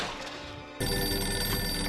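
A telephone rings in a film scene, a steady electronic bell tone that starts softly and then carries on louder and clearer, with no talking.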